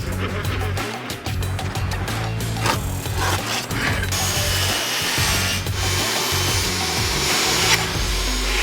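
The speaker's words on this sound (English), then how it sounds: "Freehanding across the table saw." A table saw rips freehand through a board of birdhouse wood, the blade's loud continuous whine and rasping cut filling the clip at close range with a steady motor hum beneath.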